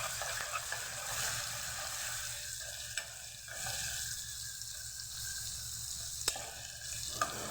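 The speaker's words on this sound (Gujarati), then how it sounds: "ડુંગળી સોતરશું" Soft, continuous sizzling of onions sautéing in oil with cumin and asafoetida, fairly quiet, with a few faint clicks of a utensil.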